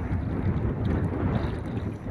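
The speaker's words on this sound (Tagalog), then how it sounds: "Medyo lumakas, nagkaroon po habagat." Strong monsoon wind buffets a small fishing boat on Manila Bay, a loud, constant low rumble of wind and engine noise with no voices.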